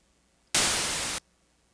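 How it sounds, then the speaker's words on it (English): A burst of white noise from the Massive synthesizer switches on abruptly, holds steady and bright for over half a second, then cuts off cleanly, with near silence around it. "turn on white noise"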